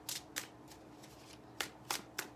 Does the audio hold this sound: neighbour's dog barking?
no